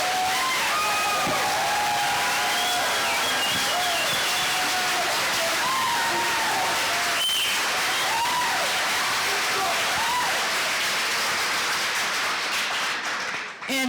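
Steady, loud audience clapping at a sheriff candidates' debate forum, a dense wash of hands with some cheering that fills the whole stretch and cuts off abruptly at the end, with voices talking through it.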